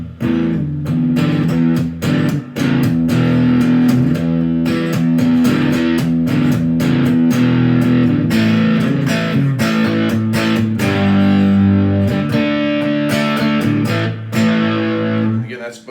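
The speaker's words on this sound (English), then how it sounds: "I'm going to throw a little bit of grind on there now with the distortion pedal." A Squier Classic Vibe Starcaster electric guitar through a distortion pedal plays loud, gritty chords and riffs with steady sustain, continuous and up close, with no talking.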